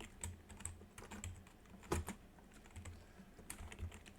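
Quiet, close typing on a computer keyboard: a quick irregular patter of key clicks with a few sharper taps.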